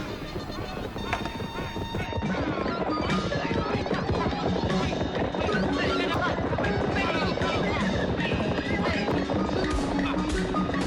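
British cavalry horses charging in a staged 1885 Burma War battle scene, hooves clattering steadily and loudly amid whinnies and crashing combat noise, with voices shouting throughout.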